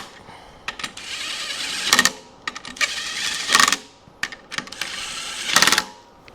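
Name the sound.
tightening bolts on a DT-466E engine with a wrench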